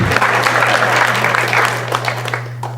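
Applause from an audience at a conference closing ceremony during a sponsor roll call, a short burst of clapping over a steady low hum.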